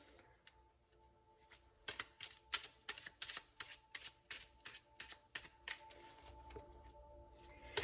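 Tea leaf oracle cards are shuffled close by in a quiet room, a quick series of soft papery riffles and flicks in an uneven rhythm over several seconds.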